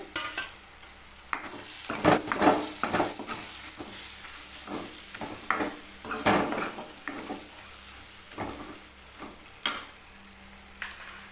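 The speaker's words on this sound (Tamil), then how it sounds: "தக்காளியும் கொஞ்ச நேரம் வதங்கட்டும் கொஞ்ச நேரம் அப்படியே வதங்கட்டும்" Tomatoes sautéing in a pan for a vegetable stir-fry, a steady close sizzle broken by repeated scraping and clanking stirs of a spoon against the pan, with no talking.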